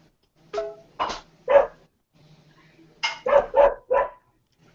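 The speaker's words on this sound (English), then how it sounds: "Do you hear the dog?" A dog barks in two bursts, first three sharp barks, then a pause with a faint low whimper, then four more quick barks, fairly close and clear over a quiet room.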